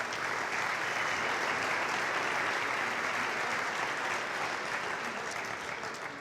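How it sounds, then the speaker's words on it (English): Continuous audience applause at a hall of honor induction ceremony, a dense, even wash of clapping that stays steady throughout and fades slightly at the end. "So please give them a round of applause for me."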